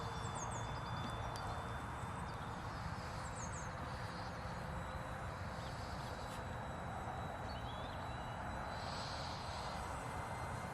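Small RC model airplane engine droning steadily at half throttle, a constant buzzing whine with a thin high harmonic, distant and even throughout over outdoor background noise.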